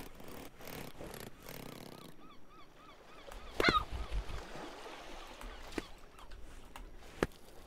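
A bird honks in a run of faint, repeated calls over rushing outdoor ambience, followed by a louder thud and a few scattered knocks.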